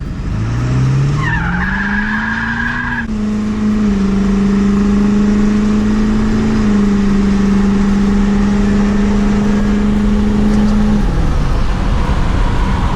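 A 400 hp 7.3 Powerstroke diesel pickup engine roars as it accelerates hard from a standstill to 60 mph, pitch climbing through the gears, with a brief high tire squeal near the start and steady road noise.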